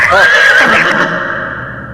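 A horse gives a loud, close whinny that trembles and then trails off into fading breath.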